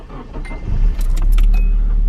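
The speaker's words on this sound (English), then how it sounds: "Let me actually start her up for you guys too." Keys jangle in the ignition of a stock Nissan 240SX S13 with its factory exhaust, then the engine turns over and settles into a steady, low, fairly quiet idle rumble, with no talk.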